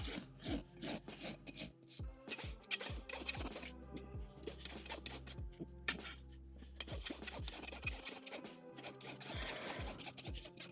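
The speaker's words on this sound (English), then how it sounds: "So I just go overlapping with my rasp, trying to be as neat as possible." Steady overlapping strokes of a rasp filing a horse's hoof during a barefoot trim, close and fairly loud, a dense run of coarse scraping passes with brief pauses between some strokes and no talking.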